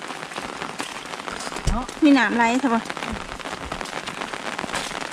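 Rain falls steadily on vegetation and ground near sugarcane fields during rice harvest, a continuous hiss throughout, with people speaking over it in the middle.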